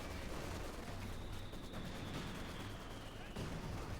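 Gunfire and mortar impacts from the Company of Heroes 2 game rattle steadily with dense bursts and heavy thumps, a continuous busy battle din at moderate level, with a voice speaking faintly underneath.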